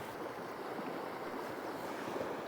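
A brook swollen by Hurricane Beryl's heavy rain rushes past in a steady, unbroken roar that fills the clip without any voices.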